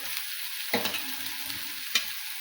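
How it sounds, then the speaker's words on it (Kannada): Tomatoes hit a hot pan already holding turmeric, setting off a sudden burst of sizzling. Steady frying hiss follows, with a second sharp clack of the spoon against the pan. "ಈಗ ಟೊಮೆಟೊ ಹಾಕ್ತೀನಿ ನೋಡಿರಿ"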